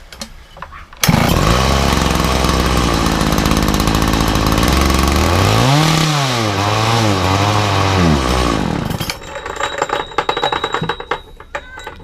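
A Makita petrol disc saw with a suspected carburetor problem starts abruptly and runs loud and close for about eight seconds, its engine note dipping and wavering roughly midway before cutting off, leaving clattering handling noises.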